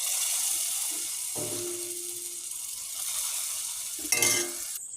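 Fried spice paste worked into a pan of khichuri, a quiet continuous sizzle with soft scraping strokes and a short louder clatter toward the end, no talking.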